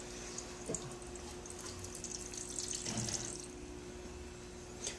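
Water runs steadily from the hot water spigot of a hot water tank being primed, a continuous faucet-like stream with a few small splashy surges, close and alone with no talk.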